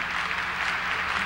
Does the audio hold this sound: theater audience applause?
yes